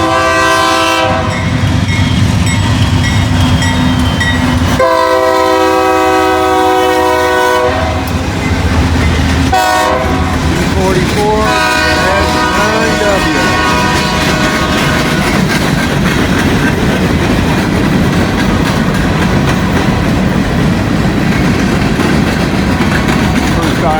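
An I&O freight train with big locomotives thunders past close by, horn blaring in long blasts, then a heavy rolling roar of wheels clattering over the rails.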